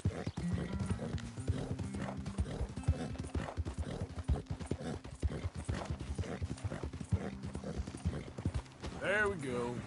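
Horse hooves clip-clopping in Red Dead Redemption 2, a steady close rhythm of hoof falls on a path that runs throughout, with a faint whinny near the end.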